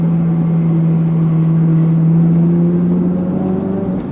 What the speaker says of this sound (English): It's downshifting pretty quick, but the upshifts, my gosh, are they really, really slow